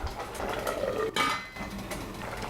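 A metal lid set down on a pot of bubbling spicy Korean soft-tofu stew, sundubu jjigae, giving a clear clatter midway through, with light clinks and a steady simmering hiss around it and no talking.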